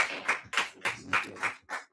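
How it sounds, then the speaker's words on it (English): At a fashion academy induction ceremony, a few hands clap in a steady, evenly spaced rhythm of about seven distinct claps, close and fairly quiet, with no talk. "Please a round of applause for both of them."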